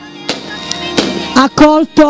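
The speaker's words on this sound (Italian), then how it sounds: "salutato con i fuochi d'artificio" Fireworks go off during a religious procession in Torregaveta, a few sharp, echoing cracks spaced irregularly, while a voice speaks over and between the bangs.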